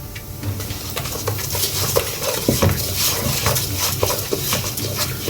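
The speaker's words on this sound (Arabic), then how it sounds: "ونبتدي نقلب الرز بتاعنا" Rice being stirred in a pot with a spoon, giving a run of close scraping and clinking knocks against the metal at an uneven pace, fairly loud, with no talking.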